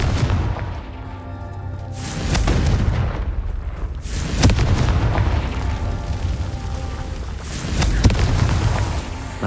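A Confringo blasting spell goes off in Hogwarts Legacy, heavy booming explosions with rumbling low ends, one at the start, a sharp blast around the middle and another burst near the end, set against a dense game soundscape.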